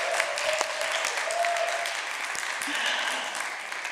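An audience of young people at a televised quiz show final claps steadily at a moderate distance. The applause is continuous and even throughout, with faint speech underneath.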